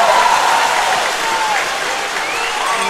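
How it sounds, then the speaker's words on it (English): Hockey crowd in the Winston-Salem Fairgrounds Annex arena cheering and applauding after a goal, a loud roar and clapping that fills the space while an announcer talks over it. "As the crowd comes alive."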